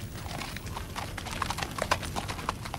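A horse's hooves clip-clop at an uneven walking pace, moderately close, with no speech over them.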